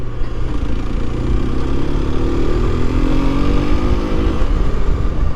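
An FB Mondial HPS Ubbiali 125cc motorcycle on the road, its small engine droning steadily and loud throughout with a rising pitch as it accelerates, under heavy rushing wind, with no talk.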